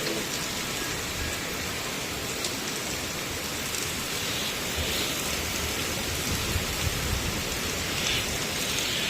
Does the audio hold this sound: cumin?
no